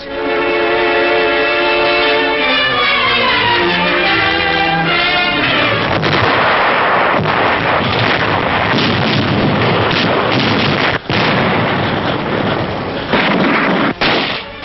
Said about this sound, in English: the Yanks advanced slowly, facing one of the fiercest artillery barrages of the war